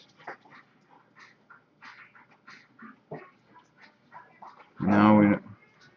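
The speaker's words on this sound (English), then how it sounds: "The dogs are just kind of reckless. They just came in from outside." Dogs that have just come in from outside make a loud, brief vocal burst near the end, after scattered quieter sounds and movement through the room.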